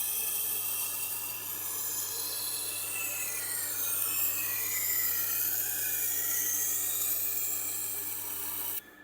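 A knife edge rasps steadily against the turning wheel of a Tormek sharpener, a close, continuous grinding whine with shifting pitch sweeps and a low motor hum beneath, cutting off abruptly at the end.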